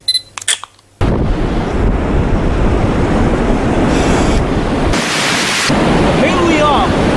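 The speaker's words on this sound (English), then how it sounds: "It is 20 miles per hour wind." Strong wind of about 20 mph buffets the microphone on North Pier in Blackpool. A brief clattering comes first, then a steady loud roaring rush runs to the end without pause.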